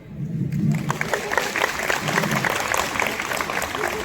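Audience applause at a Republic Day celebration, a sustained patter of clapping from a gathered crowd that runs throughout, with a voice briefly rising over it early on.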